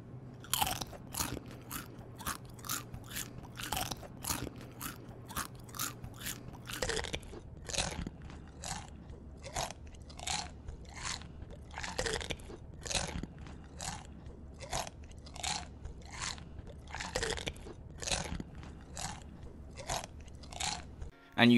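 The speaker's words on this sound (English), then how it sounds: "she'll eat a packet of crisps on stream" Someone eats a packet of crisps close to the mic with loud, sharp crunches that come in quick bursts, along with chewing and a faint rustle, and no talking.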